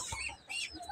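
Pet birds calling inside a bird house, a few quick, faint clucking chirps in close succession within a short moment.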